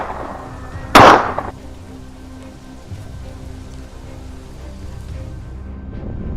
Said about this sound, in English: From below the road, I easily observed and fired consecutive shots.